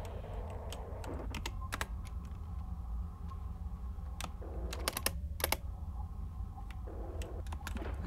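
Keys clack on a computer keyboard in short irregular bursts of typing, close and fairly quiet, with pauses between runs over a low steady background hum.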